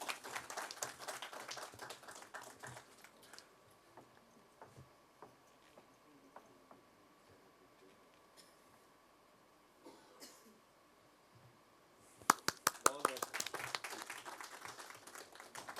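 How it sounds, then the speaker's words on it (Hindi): Audience applause at a political party's foundation day gathering breaks out near the end as a burst of clapping, after a quieter stretch of scattered coughs, taps and room noise. "जोरदार तालियां देवेंद्र जी के लिए।"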